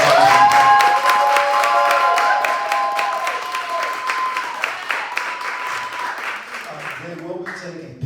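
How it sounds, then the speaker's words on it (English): An audience at a live music event in Syracuse, New York, breaks into sustained applause, dense clapping and some cheers that carry on for several seconds while a voice speaks over it and a tone lingers. "So just give me one more round of applause."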